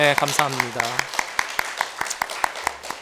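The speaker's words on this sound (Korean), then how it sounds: "우리 한번 뜨겁게 박수해 주시고" A Korean church congregation claps together in a brisk, regular rhythm of sharp beats, while someone speaks briefly over the start.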